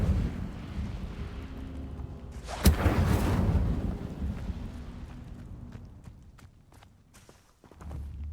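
An Incendio fire spell is cast in the Hogwarts Legacy video game: one sharp, loud whoosh bursts out, then a roaring flame fades slowly over low game ambience.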